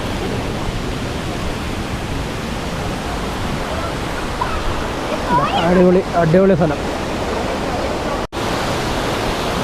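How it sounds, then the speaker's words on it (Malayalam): Kuthumkal waterfall in Idukki, a loud, steady broadband rush of falling water that fills the whole scene without pause, with someone speaking briefly over it partway through. "വളരെ മനോഹരമായ ഒരു വെള്ളച്ചാട്ടം"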